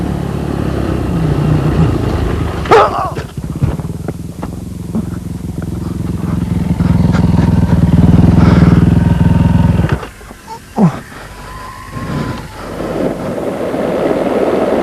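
Onboard a Czech rider's rally motorcycle on a 2007 Dakar desert stage, the engine roaring loud and close with shifting revs, wind buffeting the microphone, and a few sharp knocks and dips mid-ride.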